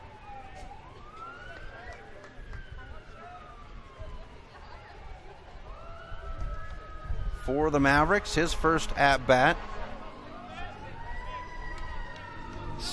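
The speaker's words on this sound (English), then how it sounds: "Sirens in the background." Sirens wail in the distance over downtown Billings during a baseball game, with a rising and falling tone running throughout and a louder, brighter burst in the middle, under a play-by-play announcer's commentary.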